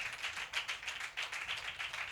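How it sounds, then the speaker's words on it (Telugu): A congregation at a Christian sermon claps in a quick, even rhythm. The claps come as repeated bursts at moderate volume, without voices. "కొట్టు చప్పట్లు గట్టిగా, ఇంకా గట్టిగా."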